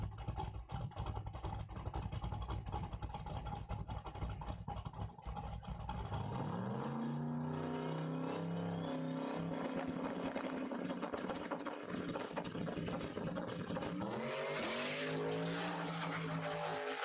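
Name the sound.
Catfish Camaro drag racing bye run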